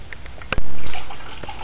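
Coolant drains from the engine of a 1997 Buick LeSabre into a pan, a sudden loud splashing pour that starts abruptly and then tapers into a steadier trickle, close by.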